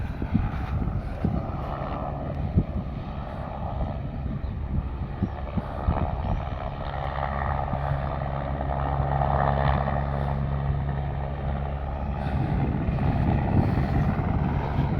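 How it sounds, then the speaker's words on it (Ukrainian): Helicopter flying over a beach at Cala Varques, a continuous low rotor drone that stays steady for the whole stretch, partly mixed with wind buffeting the microphone. "От і вертолітик, я вже третій раз тут пролітаю."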